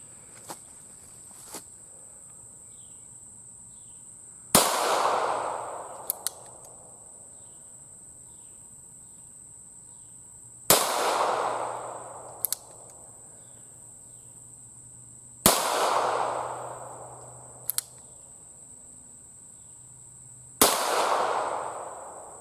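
Four single-action shots from an 1895 Nagant revolver crack out several seconds apart, each a sharp loud report with a brief echoing tail, while a steady insect drone runs through the quiet between them.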